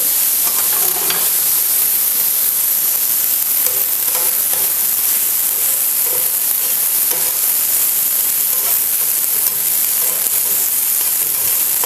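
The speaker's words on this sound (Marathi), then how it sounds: "आपल्याला आता कांदा घालायचा आणि टमॅटो पण घालते आपल्याला ना थोडंसं परतून द्यायचं" Chopped onion and tomato sauté in a hot pan with a constant loud sizzle and hiss, broken now and then by soft stirring scrapes, with no talking.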